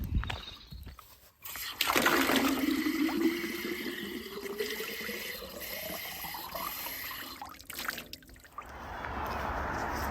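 A drinking-water tap on the Ridgeway trail runs steadily for several seconds, its pitch rising as a container fills, then stops, with outdoor background noise.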